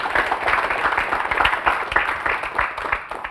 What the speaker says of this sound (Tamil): அவருக்கு ஒரு நல்ல கைத்தட்டல் கொடுக்கலாம்.